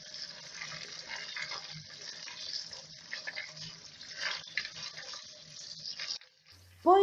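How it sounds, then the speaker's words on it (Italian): Tap water runs steadily into a sink while wild garlic bulbs are rinsed under it, a fluctuating splashing stream that cuts off near the end, followed by a short clatter. "Alla fine sciacquo e risciacquo sotto acqua corrente e lascio sgocciolare"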